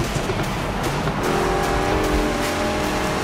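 Engine roar and tire noise from a car speeding in a demolition derby video game, a loud continuous drone with rising engine tones partway through and no voices.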